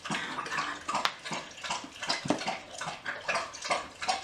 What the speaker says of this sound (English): Everybody's hearing this big dog drink all this water